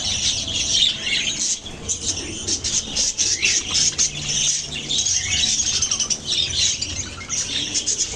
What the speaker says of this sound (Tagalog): mga alaga kong lovebirds